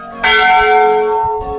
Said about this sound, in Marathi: आता इथं मस्त असा घंटा वाजवायचा, किती मोठे मोठे घंटा आहेत.